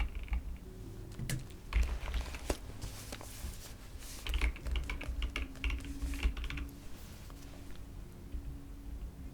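Someone writes an essay on a computer keyboard, producing quiet, close, irregular bursts of key clicks with brief pauses and a few heavier thumps, like spacebar or enter presses.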